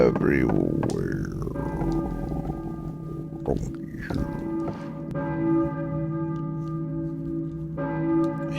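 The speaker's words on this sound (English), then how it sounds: "Hear a church bell, maybe" A church bell tolls in the Silent Hill video game, several slow, ringing strikes with long humming decay over a low ambient drone, with brief voice sounds early on.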